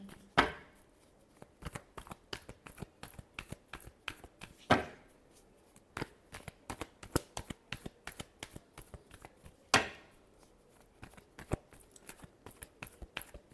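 Tarot cards shuffled by hand in a quiet room, a steady run of soft riffling taps broken by three sharper slaps of the deck, with no talking.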